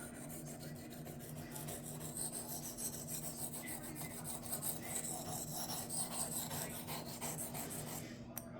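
A knife is stroked repeatedly across a cheap Chinese whetstone that rocks in its tray, giving a steady rhythmic rasping scrape, close and moderately quiet, with no speech.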